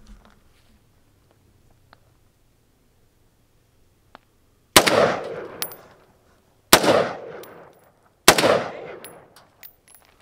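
An AR rifle fires three loud, sharp shots outdoors, spaced roughly two seconds apart, each followed by a short echoing decay after a few quiet seconds with faint small clicks.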